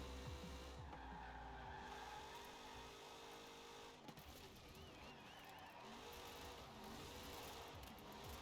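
Impala SuperSport 409 muscle car in Forza Horizon 4 sliding through rally corners, its tires squealing in steady, wavering screeches over a continuous loud engine roar, with no break in the noise.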